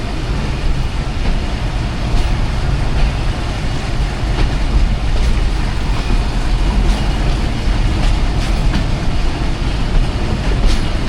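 The Awam Express rumbles steadily as it pulls out of Hasan Abdal station in Pakistan, a continuous loud roar of wheels and carriages with faint rhythmic clatter and no voices.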